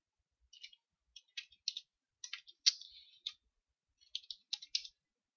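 Quiet keystrokes on a computer keyboard while typing in Microsoft Word 2010, arriving in short irregular clusters of close clicks separated by brief pauses.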